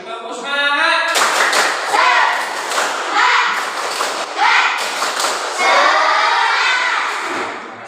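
Children in a classroom repeat a rhythmic spirit clap on a teacher's cue, lively patterned bursts of claps and thumps alternating with group chanting, loud and near in a small room.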